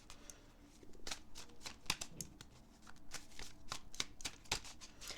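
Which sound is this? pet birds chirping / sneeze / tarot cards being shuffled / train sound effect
tarot cards being shuffled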